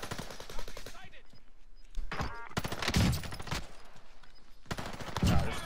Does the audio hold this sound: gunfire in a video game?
yes